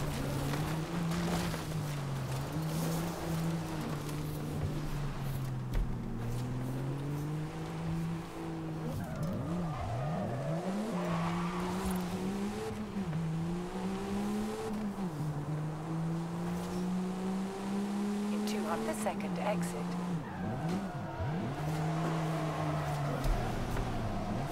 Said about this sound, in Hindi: गाइस देखो, हम ऑफ रोडिंग में चला रहे हैं इस गाड़ी को, यहाँ पे खतरनाक वाला ऑफ रोडिंग है।